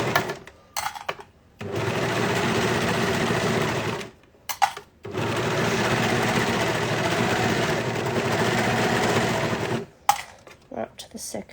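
A sewing machine runs in two long steady bursts, stitching fabric slowly during a sew-along for a pattern, with short pauses and a few clicks between runs.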